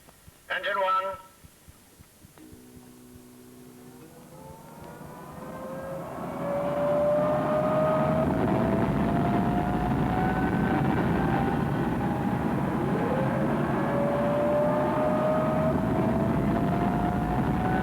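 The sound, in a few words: aircraft engine starting up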